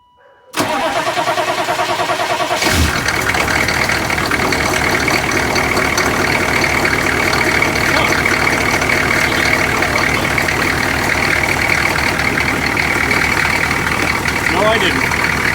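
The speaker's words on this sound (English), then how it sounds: "I'm going to turn the engine on." A GMC 6.5L diesel truck engine cranks and catches with a loud start, then settles into a steady, rumbling idle that continues close by.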